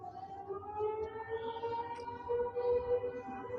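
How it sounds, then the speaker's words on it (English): An air raid siren in Tehran wails in a steady, sustained tone at the University of Medical Sciences, heard at a distance with a gentle rise and fall over low background noise. "air raid siren in Tehran, at the University of Medical Sciences"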